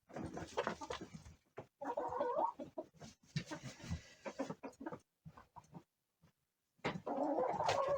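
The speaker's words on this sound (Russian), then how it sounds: "У меня 15 кур и 2 петуха." Hens and roosters from a small backyard flock of fifteen hens and two roosters cluck and squawk close by in bursts, with brief quiet gaps between.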